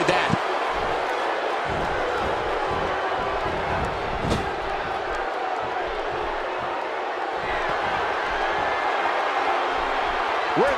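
A fired-up wrestling arena crowd in Pittsburgh, the Steel City, roars steadily through a SmackDown match, a dense wall of cheering with brief swells and thuds, while commentators talk over it.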